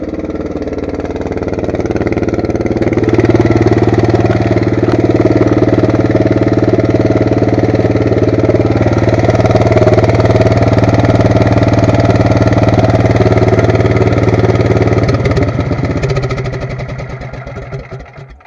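A 9 horsepower go-kart engine on a go-kart truck runs loud and close, a steady throbbing drone that swells after a few seconds, holds, then fades and sputters near the end.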